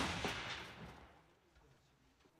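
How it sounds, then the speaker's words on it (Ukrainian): A single loud gunshot from a remote-controlled Ukrainian turret fired in a forest, a sharp blast that decays into a long fading echo. "Постріл!"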